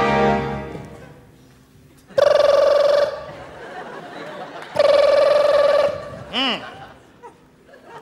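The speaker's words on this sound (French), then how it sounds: "Les téléphones sonnent." Telephones ring at a headquarters in a cartoon-style scene, two loud bursts of ringing about two seconds each, separated by a gap, with voices and a brief whistling effect around them.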